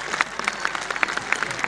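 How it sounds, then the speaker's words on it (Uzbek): Audience clapping at a public meeting, a brief patter of many hands close by, uneven and lively, with crowd voices mixed in. "1000 yoshga kiradiganlar qarsaklarni ayamasin"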